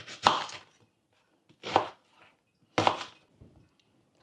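Onion being chopped with a knife on a cutting board, three distinct firm thunks spaced about a second apart, close and clear, with no talking.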